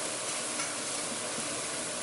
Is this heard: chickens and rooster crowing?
no